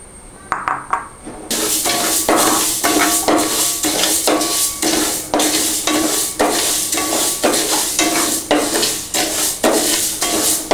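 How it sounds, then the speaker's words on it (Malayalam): Split moong dal dry roasting in a pan for Kerala cherupayar parippu payasam, with a steady close rattle and scrape of lentils being stirred, rhythmic strokes repeating throughout over a dry crackle. "ആദ്യം തന്നെ ചെറുപയർ പരിപ്പ് ഒന്ന് വറുത്തെടുക്കും"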